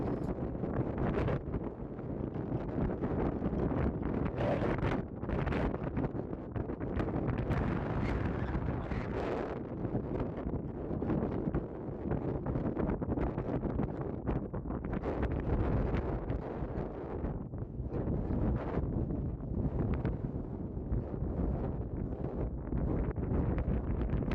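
Gusty wind at a park in Kansas batters the microphone continuously, a low, rumbling roar that swells and dips in strong bursts with no voices.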